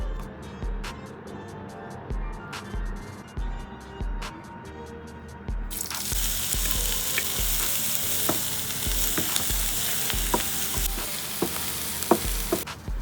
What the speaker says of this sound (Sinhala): ඉතින් මම ඇඩ් කරගත්තු garlic සහ onion ටික හොඳට golden පාට වෙන්න fry වෙලා දින්නේ